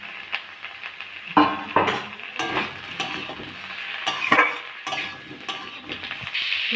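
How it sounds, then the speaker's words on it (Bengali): Bitter gourd and potatoes frying in a pan, a soft ongoing sizzle broken by several loud scraping stirs and clinks of a utensil against the pan, close and alone without talk. "উচ্ছেগুলো ভালো করে ভেজে নিয়েছি, আমি এবার আলু সবগুলো দিয়ে দেবো।"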